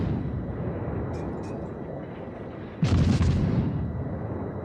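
Naval guns firing in the World of Warships video game, a sudden heavy booming salvo about two-thirds of the way through, rising over a steady rumbling battle background and trailing off into a rolling roar.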